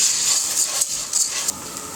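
Carnaroli rice hits a pan of hot olive oil and sizzles, a steady loud hiss lasting throughout with small bursts of crackle.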